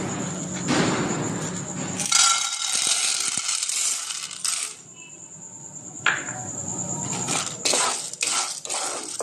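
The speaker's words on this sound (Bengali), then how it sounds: "এবার আমি তেল গরম হয়ে গেছে, এবার আমি ভুট্টাটা দিয়ে দিচ্ছি।" Corn kernels poured into hot oil in a pan for homemade popcorn, a rattling clatter of kernels on metal with a hissing sizzle, followed by scraping and shuffling as the pan is stirred, close and moderately loud.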